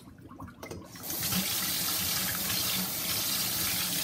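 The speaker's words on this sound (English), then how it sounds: "now what I'm going to do is just dump that water" Water used for washing raw wool fleece is dumped out in a sudden loud, sustained gush and splash after a few quieter handling sounds, with no talk.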